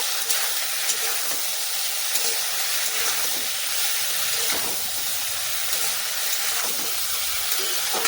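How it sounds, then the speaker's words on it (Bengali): Prawns with turmeric and salt are stirred in a hot pan, producing a loud, continuous steamy hiss and sizzle up close, with faint scraping accents and no talk. "ভালো করে নেড়ে চেড়ে নেব"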